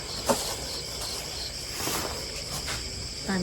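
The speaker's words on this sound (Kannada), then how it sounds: "ಏ ಕಪ್ಪೆ ಸೌಂಡು" Frogs croak at night in a few scattered bursts over a steady, high insect-like chorus that runs throughout at moderate level.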